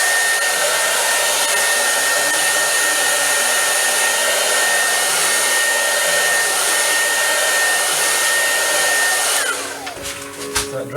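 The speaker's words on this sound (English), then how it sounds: "I use my little hair dryer just to flash that off very quickly" Small hair dryer blowing steadily over freshly applied marbling inks, a loud, continuous broadband whoosh that runs close and unbroken for most of the clip before cutting off near the end.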